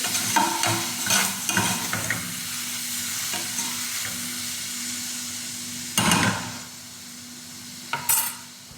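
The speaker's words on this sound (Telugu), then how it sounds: "తాలింపు వేగిపోయిందండి" A pan of tempering fries in oil with a soft continuous sizzle, broken by a few loud bursts of spoon scraping and clatter against the pan.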